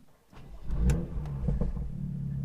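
A BMW M2 engine cranks and catches, then rises into a brief rev before settling to a steady, rumbling idle nearby, with no one talking.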